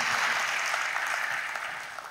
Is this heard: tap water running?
no